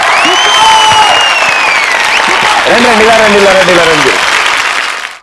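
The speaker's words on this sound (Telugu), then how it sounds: "ఈవిడికి ఇలా చప్పట్లు కొడితే సరిపోదు" Clapping from an audience on a Telugu TV show, loud and steady throughout with crowd noise, while someone speaks over it and music-like tones sit underneath.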